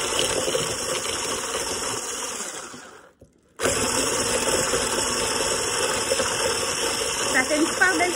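An electric whisk whips hemp shea butter with essential oils, a steady motor whir that stops briefly, then starts again and runs on, with a voice speaking partway through.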